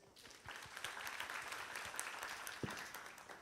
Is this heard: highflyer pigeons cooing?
no